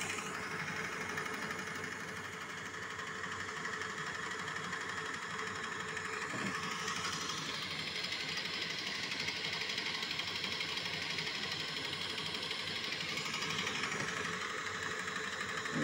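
Homemade electric motor built from a cordless drill pushes a sailing catamaran at about 2 km/h in calm air, drawing around 2 amps at 25 volts; a steady close whirring drone with motor rattle continues throughout without speech.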